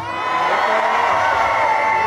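A concert crowd in New Orleans cheers and screams loudly and continuously, a dense wall of shouting voices that holds steady throughout.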